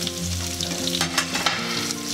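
Shallots sizzling in hot oil for a Kerala sambar tempering, with a dense, steady frying crackle and occasional stirring scrapes throughout, close and loud, with no talking.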